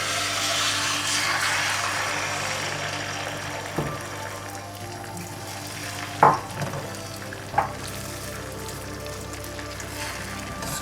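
About three tablespoons of oil sizzle steadily in a pan as something is scrambled into small pieces, a continuous close frying hiss broken by a few sharp scrapes and taps of the spatula, with no talking.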